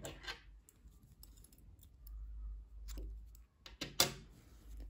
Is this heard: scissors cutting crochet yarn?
yes